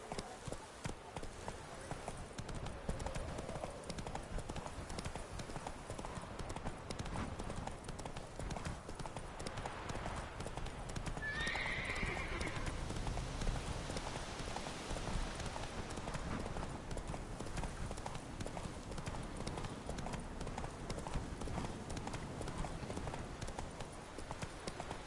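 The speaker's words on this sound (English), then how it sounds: "Whoa there, Roach." Steady clip-clop of horse hooves at a trot in The Witcher 3 runs for the whole stretch, close and even, with game background sound beneath and a brief brighter chime near the middle.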